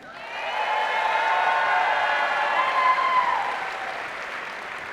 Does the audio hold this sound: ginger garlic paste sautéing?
no